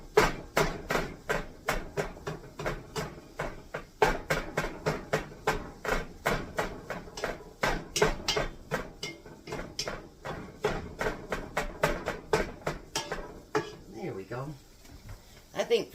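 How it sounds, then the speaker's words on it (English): A spatula or utensil chops ground hamburger in a pan for beef vegetable soup, a steady run of sharp, rapid knocks against the pan lasting throughout, close and fairly loud, with a brief quieter stretch near the end. "I'm going to chop my hamburger up just a little bit."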